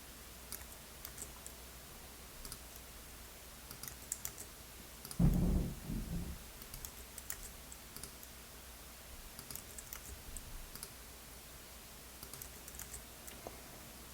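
Quick bursts of computer keyboard typing, light and close, with clustered key clicks over a soft background hum and one louder thump partway through.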